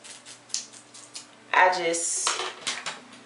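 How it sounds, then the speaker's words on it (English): Scissors cutting hair for a classic bob snip in a few quick, crisp clicks, followed by a louder, sustained metallic shearing close by. "I find it to be quicker to just do it with my scissors."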